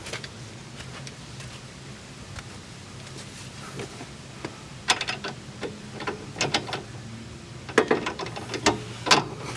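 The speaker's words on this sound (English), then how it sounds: "let's torque this to 44 foot-pounds as well" A torque wrench tightens a sway bar end link on a Mazda3, giving a run of close, sharp ratcheting clicks that grow louder and denser toward the end, with no talking.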